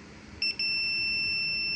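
A multimeter's continuity buzzer, probing a shorted circuit on the board of an Astron 45-inch smart TV that has no power, gives a few quick chirps. These settle into a steady, unbroken high beep.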